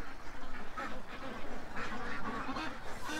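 Ducks quack in a busy, overlapping chorus, a faint, continuous jumble of rough calls with no talking.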